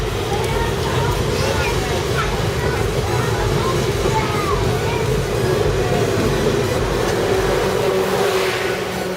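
Two South Western Railway Class 444 electric trains passing at Eastleigh, a continuous rumbling, rushing roar with wheel noise that stays loud for the whole stretch while someone talks over it.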